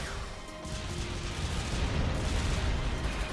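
A HPF cannon attack explodes in Super Robot Wars Y, a dense, steady roar of blast noise that swells and holds for several seconds with no break.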